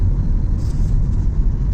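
A car driving slowly through road traffic toward Dwarka in Delhi, a continuous deep engine and road rumble heard from inside, steady and fairly loud with no talk.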